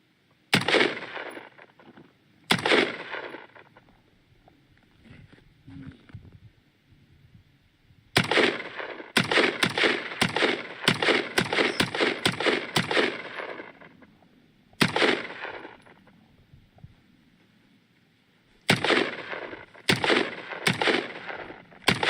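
An AR-15 rifle fires loud, sharp shots: a few single rounds, then a rapid string of about ten shots, followed by more spaced single rounds with quiet gaps between.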